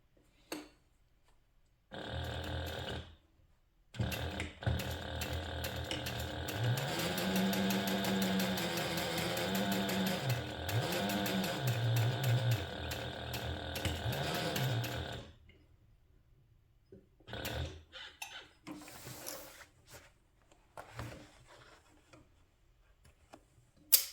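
Sewing machine top stitching through a handbag side panel at an eighth-inch seam allowance, running in a steady continuous burst for several seconds with a low cyclic hum, then stopping and giving way to quieter handling noises.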